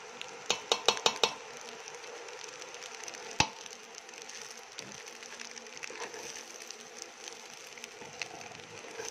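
A metal spatula clatters and scrapes against a pan while Chinese asado fried rice is stirred, with a quick run of sharp clanks early on, one loud strike midway, then steady lighter scraping.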